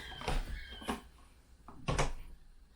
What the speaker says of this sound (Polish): Czekajcie, zamknę drzwi.